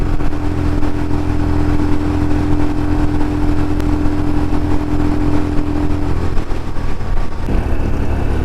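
A Toyota Fortuner SUV passing close beside a motorcycle on the road, a loud steady engine rumble and drone, with the pitch shifting as it goes by near the end.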